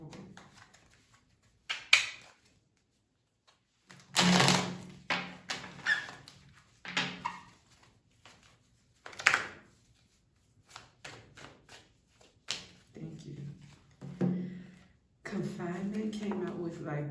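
Several bursts of tarot card shuffling, riffles and taps coming in short clusters, with a person talking in between and over some of them.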